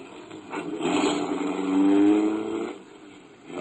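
A car engine swells and fades in an old-time radio drama sound effect, a mid-pitched motor pulling away slowly, rising to a peak and then dropping off, heard alone without voices.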